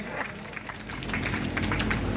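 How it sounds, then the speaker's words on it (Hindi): An audience at a book launch event claps together, a dense burst of applause that builds slightly in loudness over a couple of seconds, moderately distant and alone without talk. "करतल ध्वन से एक बार ताली बजा करके"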